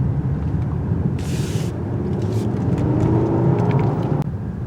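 A 2023 Lexus LS 500 AWD F Sport drives in Comfort mode, giving a steady, loud cabin rumble of road and engine noise with a few sharp clicks and a brief hiss partway through.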